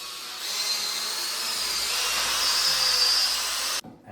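A corded drill with a mixing paddle churns building compound at low speed, a steady even whir running for several seconds before stopping abruptly.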